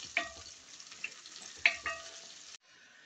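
Garlic, three cloves, sizzles in a cooking pot, a steady close frying hiss with a few sharper crackles and stirring clicks, cutting off near the end.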